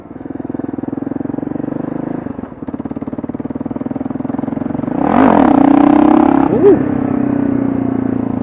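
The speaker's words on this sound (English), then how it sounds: "just rev the tits off the thing, dump the clutch, lean back, give her a good yank, and up she'll come" Kawasaki KLR 650 motorcycle engine idling and pulsing steadily up close, then revving hard as the clutch is dumped for a wheelie, the roar swelling loud with a brief higher whine near the end.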